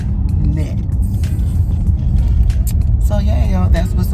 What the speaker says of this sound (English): Watch this traffic.